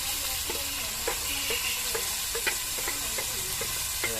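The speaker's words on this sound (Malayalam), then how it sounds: "വെളിച്ചെണ്ണ ചൂടായാൽ ഉടനെ അരിഞ്ഞു വെച്ചിരിക്കുന്ന തക്കാളി സവോളയും കൂടി അതിനകത്തേക്ക് ചേർക്കാം" Chopped tomato and onion fry in hot coconut oil, a dense continuous sizzle with regular spatula scrapes and taps against the pan, close and fairly loud.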